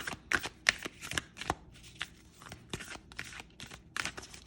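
Oracle cards are shuffled repeatedly in quick riffling bursts, crisp and close, with brief pauses between passes and no talking.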